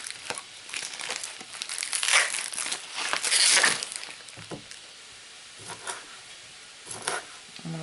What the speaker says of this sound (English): I'm going to cut up my smoked sausage.